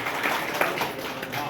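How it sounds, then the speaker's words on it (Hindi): Audience applause at a birthday celebration in an old age home, a dense continuous wash of clapping throughout the short moment, with voices mixed in. "आप सबसे निवेदन, एक बार जोरदार तालियों के साथ अपने आवाज"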